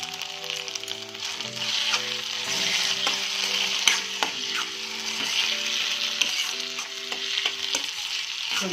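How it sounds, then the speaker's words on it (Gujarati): Manchurian fried rice with green chili sauce is stirred in a pan, giving a steady close sizzle with a spoon scraping and clinking through it, and no talking. "થોડીવાર માટે આને હલાવીશું."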